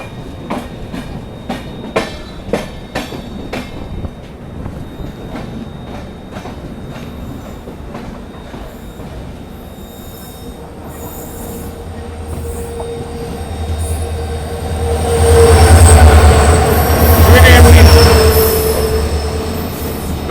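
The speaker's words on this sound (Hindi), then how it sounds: "और सामने से अराइवल हो रहा है किसी ट्रेन का" An Indian Railways train of ICF coaches hauled by an EMD diesel locomotive arrives, wheels clicking rhythmically over rail joints, then a heavy engine rumble and screeching wheel squeal swell close by toward the end.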